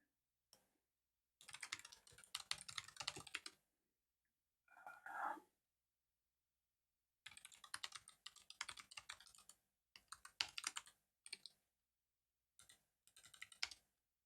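Rapid typing on a computer keyboard comes in close, crisp bursts of clicking keys separated by silent pauses, with one brief scuffling sound partway through.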